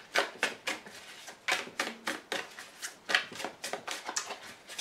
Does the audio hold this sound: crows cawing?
no